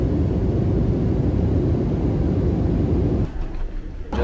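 Steady, broad airplane cabin roar during a slightly bumpy flight fills the clip evenly, then drops to a quieter, uneven rumble near the end.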